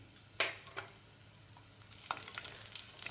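Garlic dropped into hot oil for tempering crackles in a few sharp sizzling pops and spatters, quiet and close, with light stirring.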